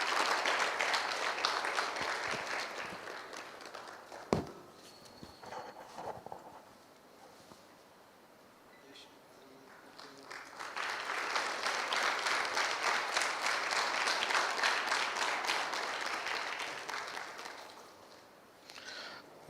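Seminar audience in a hall giving a round of applause: a long burst of clapping that dies down to near quiet with scattered sounds and a faint voice, then swells again into a second sustained wave before fading.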